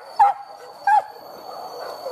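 Two sharp dog barks sound close by, about half a second apart, over a faint steady background hum, during a hunt for wild boar in the countryside.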